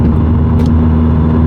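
Genesis Coupe 2.0T fitted with a Depo Racing downpipe exhaust, heard from inside while driving: a loud, steady low engine and exhaust drone with road rumble and no talking.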